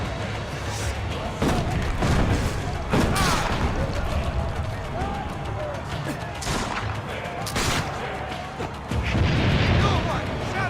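Cannon fire booms repeatedly in Assassin's Creed: Brotherhood, with several heavy blasts scattered through a noisy battle while voices shout.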